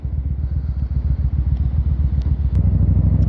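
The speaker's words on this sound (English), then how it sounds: "Oh, Popo, better run her quietly here. Don't hit the gas." A motorcycle engine idling and running quietly on its last ride, giving a close, steady low-pitched chugging pulse that thickens slightly near the end, with no voices.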